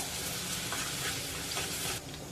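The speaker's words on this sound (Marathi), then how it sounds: "त्यामध्ये आपण आलं लसूण घालून घेऊया आलं लसूण परतून घेऊया" Ginger and garlic sauté in hot oil in a kadhai. A dense, loud sizzle carries soft stirring scrapes and drops off noticeably near the end. No voices are heard.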